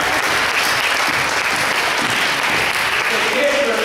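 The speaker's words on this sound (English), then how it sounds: "Give a round of applause." An audience in a school assembly bursts into continuous, dense clapping that stays loud and even for a few seconds.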